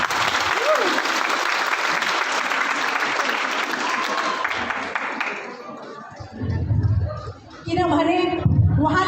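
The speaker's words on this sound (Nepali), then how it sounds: "जोरदार ताली डिएक्सनमा" An audience at a DXN Nepal gathering claps loudly and continuously for several seconds, a thick crowd applause that fades out as a speaker's voice takes over near the end.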